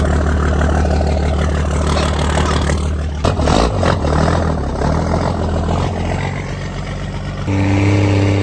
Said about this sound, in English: Just a little exhaust leak, nothing to be worried about here.